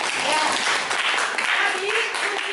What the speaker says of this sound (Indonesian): Bagus, tepuk tangan untuk Ari.